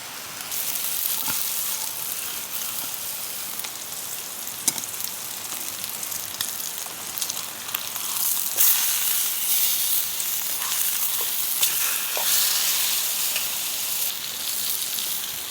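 Brussels sprouts frying in butter in a pan at a campsite give a steady, close sizzle and crackle that carries evenly throughout, with no talking.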